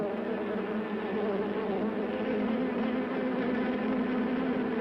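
Bees swarming around a mannequin: a dense, continuous buzzing drone that holds steady throughout, close and moderately loud, with no speech.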